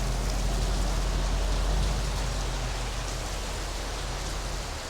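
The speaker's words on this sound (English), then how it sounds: "it's pouring rain" Pouring rain falls on a street lined with shops in Raleigh, North Carolina, a dense, steady, loud hiss that stays even throughout and eases off slightly at the very end.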